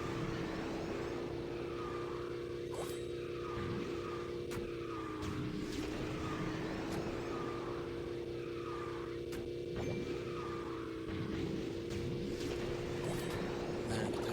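Kart boost from the racing game Kartrider, a steady whooshing engine drone held throughout with repeated surging swells, loud and continuous with no talk over it.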